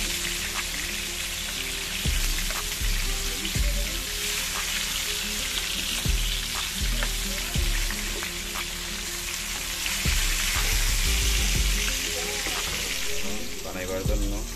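Katla fish pieces frying in oil in a pan, a dense continuous sizzle with spattering crackle, loud and close, broken by several knocks and scrapes as the pieces are turned.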